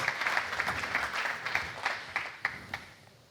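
Applause welcoming Elena Tejedor, director of the Fundación Trinidad Alfonso, at a presentation event for the VCV cycling races, a modest scattering of hand claps that thins out toward the end, with a few sharper individual claps standing out.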